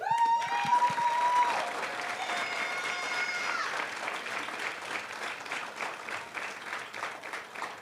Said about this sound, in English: we should have time for a little bit of applause while they get a picture with our department chair